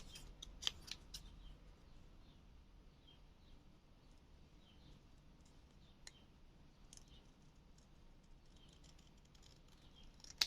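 Card being cut with scissors at a craft table: faint, close snips and small clicks scattered over a low steady background hum, with no talking.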